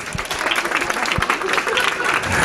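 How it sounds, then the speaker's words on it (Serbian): Crowd applause at a foreign investors council anniversary cocktail party after the cake is cut, a burst of clapping mixed with guests' chatter, moderately loud and close. "Molim vas, aplauz."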